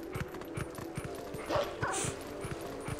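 Dog barking in the Twilight Princess video game, a few short yips amid rhythmic hoof-like clopping and game effects, moderately loud with no talk.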